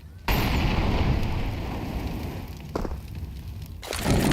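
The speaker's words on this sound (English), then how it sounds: "Early Molly comes down with no info." A molotov lands in Counter-Strike during a professional match at IEM Katowice 2025, a sudden loud whooshing burst of fire that keeps roaring and crackling, with further pops near the end.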